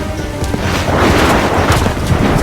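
Massed musket volley in Assassin's Creed III, a loud sustained roar of overlapping shots and booms filling the whole moment, with no break or quiet gap.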